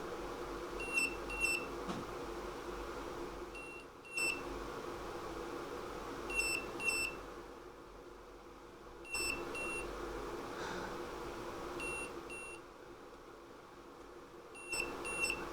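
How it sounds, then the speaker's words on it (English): Short electronic beeps from a buzzer on an ESP32 microcontroller project sound in small clusters every few seconds, sharp and high-pitched over a steady background hum. "It looks like it responds to the beeping."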